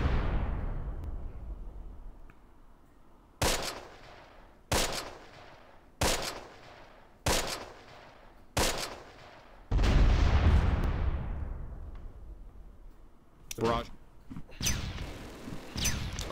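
An artillery barrage in a World War II video game: about six heavy, evenly spaced booms, each with a rumbling tail, then a long roaring blast and a few more thuds nearby.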